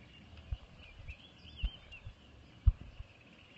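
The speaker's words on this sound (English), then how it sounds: "And the bird sounds." Birds singing at sunrise on a cloudy morning in Kenya, with faint, distant chirps and warbles over soft outdoor ambience and a few light knocks nearby.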